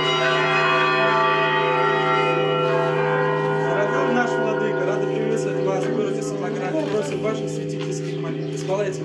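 Church bells peal at the entrance of a cathedral where a bishop is being welcomed by parishioners, their sustained ringing tones layered under a narrator's voice throughout.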